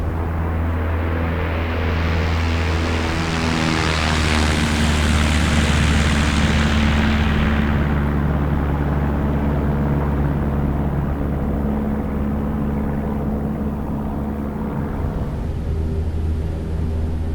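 Small propeller airplane climbing out after takeoff, engine droning loud and steady throughout, with a bright high wash early that fades as it settles into a constant low hum.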